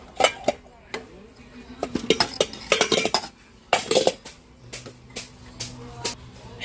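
Stacked stainless steel pots, nested small to large, clank and clink as they are handled, with a series of sharp metallic knocks in irregular bursts, close and fairly loud.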